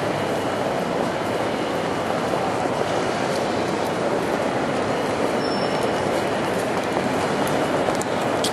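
Steady rumbling roar of a train rolling along the rails, constant and close, with faint rattles and clacks over the top.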